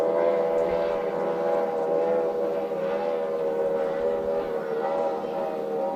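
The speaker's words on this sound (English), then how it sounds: "you can only hear one engine, no harmonics, so they are now running on one motor" An offshore racing powerboat runs on one engine of two, a steady droning roar with a single sustained tone and no harmonics, loud and continuous, without other voices.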